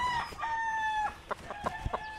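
A rooster crows in a long, fairly near call, followed by a few short clucks, with no talk over it.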